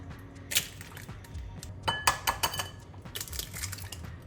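Four eggs are prepared in a bowl for scrambled eggs with a series of light clinks and taps of shells and utensil against the bowl, irregular and close but quiet.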